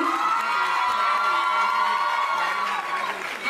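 A large crowd cheers and applauds continuously, with whoops and shouts rising above steady clapping.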